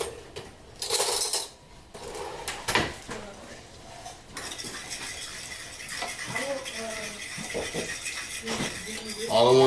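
Sticky honey barbecue sauce for stovetop BBQ chicken being mixed in a dish, with a utensil clinking and scraping against the bowl in quick irregular strokes, and a voice talking over parts of it.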